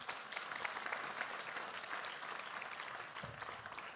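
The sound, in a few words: audience applause for a panel guest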